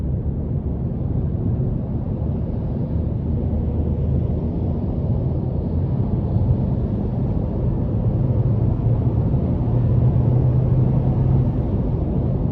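A 2024 Hyundai Kona N Line with a 1.6-litre turbo four-cylinder pulls out of a corner, its engine a steady low drone and rumble heard from inside the cabin, rising slightly in the latter half, with no talking.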